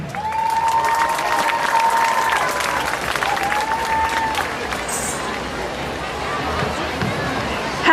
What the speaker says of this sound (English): keep that applause going once more for the president of Anuja SA, Ms. Kosi Subramaniam.